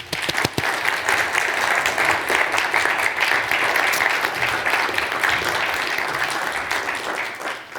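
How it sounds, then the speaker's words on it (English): Big round of applause from a design event audience, steady dense clapping sustained for several seconds at moderate loudness with no talk over it. "we can do a big applause for everyone"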